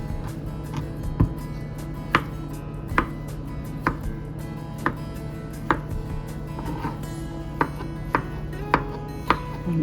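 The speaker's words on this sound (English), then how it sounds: "There's our first potato chopped up." A knife chops cooled boiled potatoes into small pieces for potato salad, landing about a dozen sharp, evenly spaced cuts on the board over a low steady background hum, with no talking.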